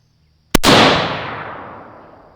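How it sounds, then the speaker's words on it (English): A PSA PA-10 Gen 3 rifle fires a single loud, sharp crack outdoors, followed by a long rolling echo that fades slowly over about two seconds. "that first shot looked pretty good."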